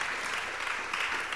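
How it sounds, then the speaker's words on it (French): An audience applauds at a French talk event after two presenters finish, a dense, steady wash of many hands clapping at once, continuous and without voices throughout. "Je pense que là, on peut les applaudir."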